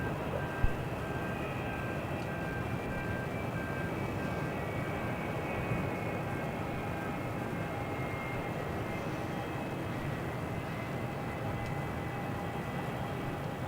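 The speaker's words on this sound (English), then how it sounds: "there goes Fiji 737 MAX 8" A Fiji Airways Boeing 737 MAX 8 takes off from runway 27 at Melbourne Airport, a steady broad jet roar heard from a distance, holding level and unbroken throughout.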